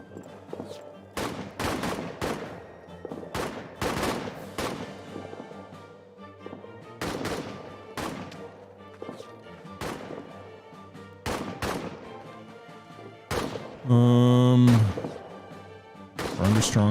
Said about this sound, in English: We're under strong fire.